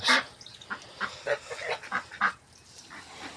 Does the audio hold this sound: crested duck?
yes